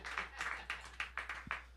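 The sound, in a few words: comedy show audience clapping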